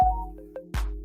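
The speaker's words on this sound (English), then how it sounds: "Why is my phone making noise?" A phone ringtone plays during a home art session, a few short tonal notes up close followed by a louder burst, with no talking over it.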